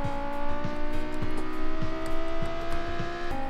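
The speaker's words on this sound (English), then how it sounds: "Now that's a sick drift that ends in a spin" A car drifting and spinning out in the BeamNG driving game, its engine droning steadily with sharp rhythmic pulses as the tyres break loose, loud and close with no talk.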